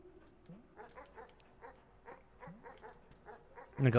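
A dog in a video game gives a run of faint, quick, evenly spaced yips and short barks with a few whiny rising cries between them, then one louder burst of sound right at the end.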